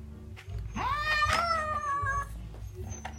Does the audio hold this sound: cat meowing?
yes